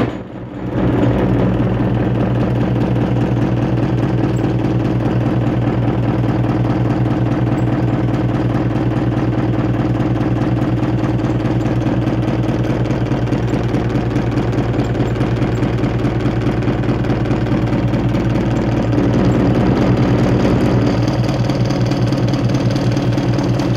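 An Adams thermo motor spinning slowly and unevenly under power, giving a steady, continuous mechanical hum with a faint rhythmic pulsing that runs unbroken for the whole span, close and fairly loud.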